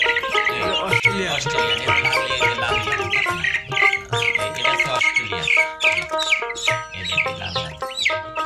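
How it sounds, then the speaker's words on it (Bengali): Australorp hens cluck and call repeatedly in a lively, fairly loud stream, layered over a busy, tonal background that sounds like music. "একটা মুরগি আছে যে অস্ট্রেলিয়া"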